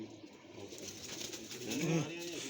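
Racing pigeons coo close by in soft low rolling calls, with a clearer coo near the end, over a steady background murmur of other birds.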